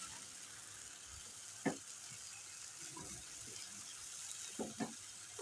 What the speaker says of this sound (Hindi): पैन हमारा गर्म हो चुका है। अब हम इसमें बैटर डाल लेंगे।